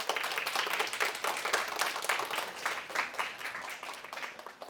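Quiet, somewhat distant applause from a small audience at a prenatal class, welcoming a tenor singer to perform; scattered individual claps blend into a soft, uneven patter lasting several seconds.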